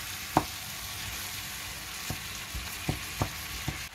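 Kefta minced meat being mixed with spices in a bowl, giving a few soft, scattered wet squelches and taps against a quiet background.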